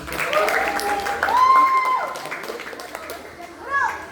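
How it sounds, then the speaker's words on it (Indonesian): A Grade 10 class at a state senior high school in Cianjur claps during a pencak silat lesson, busy clapping blended with children's voices and chatter, with a louder swell near the end. "Oke, kasih tepuk tangan lagi."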